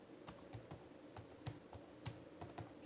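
Quiet typing on a computer keyboard, a run of light irregular key clicks close by, with no talk.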